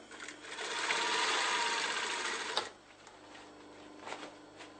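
A sewing machine stitches tape onto a lined curtain, running steadily for about two and a half seconds before stopping, then giving a couple of brief bursts, close and clear with no voices.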